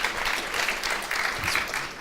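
Conference audience applauding two speakers as they are welcomed on stage at a TF1 campus event, a steady dense wash of clapping filling the short stretch without pause.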